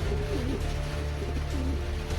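A racing pigeon coos softly after landing in rainy weather, two low rolling coos about a second apart over a steady background hum.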